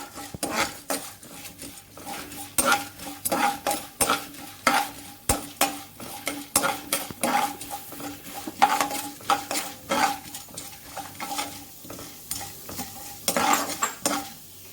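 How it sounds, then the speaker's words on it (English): Jeera, chana dal and urad dal sautéed in a pan, with a steady run of close spoon scrapes and clinks against the metal over a light sizzle, no voices. "and the jeera, followed by the chana dal and urad dal. Saute for a minute."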